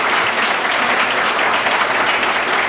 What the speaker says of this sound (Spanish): Un aplauso para Sonsoles.